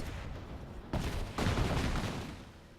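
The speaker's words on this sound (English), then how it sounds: "I can't believe there's a cluster bomb arrow in this game." Cluster bomb arrow explosions in the video game Rise of the Tomb Raider: two heavy blasts about half a second apart, then a rumbling tail of further bursts and crackle that fades out.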